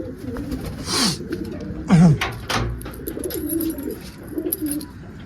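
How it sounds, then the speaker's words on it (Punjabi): Pigeons in a loft, young birds and females, coo several times at close range, with soft low calls spaced over the clip and faint shuffling around them. "ਦੇਖੋ ਇਹ ਬੈਠੇ ਬੱਚੇ ਤੇ ਬਾਕੀ ਇਹ ਕਬੂਤਰੀਆਂ"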